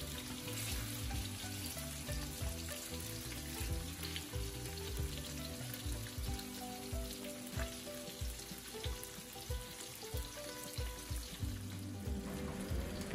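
Salmon fries in a pan, a soft continuous sizzle with light crackles and occasional scraping or stirring sounds underneath, steady and fairly quiet throughout, with no talking.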